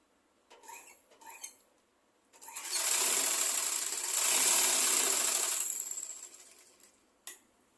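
A sewing machine stitches fabric for an umbrella skirt, with a few short clicks and brief starts before a sustained whirring run of about three seconds that fades out, followed by a single sharp tap, close-up and without voices.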